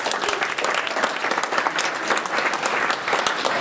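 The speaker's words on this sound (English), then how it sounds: "give him a round of applause" Wedding guests applaud warmly for the best man during the groom's speech, a dense, steady burst of many hands clapping close by, with no talking over it.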